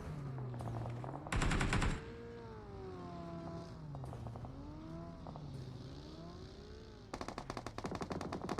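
Rapid machine-gun bursts in a competitive shooter match, two loud rattling volleys with fainter shots between, over a wavering engine drone.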